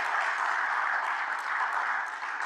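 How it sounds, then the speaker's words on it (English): A meeting audience gives a sustained round of applause, an even wash of many hands clapping at moderate distance that holds steady throughout with no voices over it. "give a round of applause, great."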